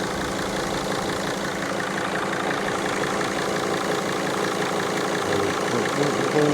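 A Mercedes Sprinter CDI turbo diesel idles steadily with a boost leak, giving a continuous close engine drone with a knocking, slightly hissy character and no talking.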